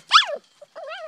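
Dogs give a sharp bark, then after a short pause a drawn-out whimpering whine. Both sounds are close and clear, with no talking.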